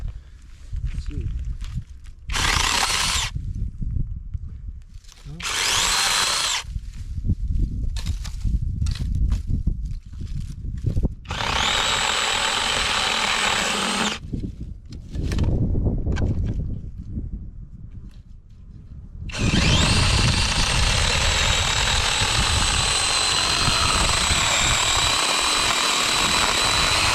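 A Seesii 8-inch handheld electric mini chainsaw cuts through wood in several bursts of high whining motor, with short pauses between and a long steady cut at the end, close and loud, with a voice speaking in between.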